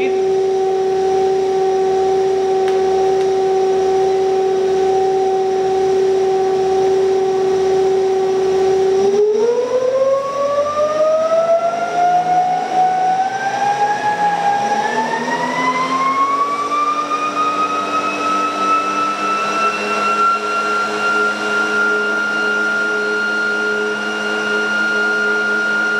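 A ReGenX generator motor on an e-bike whines steadily, then its tone sweeps upward as it spins up to a higher speed and settles into a loud, sustained electric hum.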